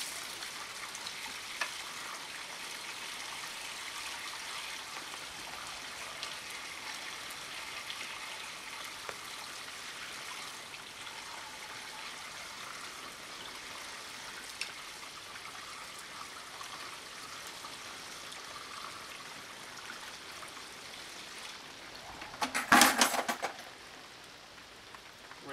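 Water from a bucket pours and soaks into a Swedish fire torch, making a steady bubbling, fizzing hiss for a long stretch before a brief louder splash near the end.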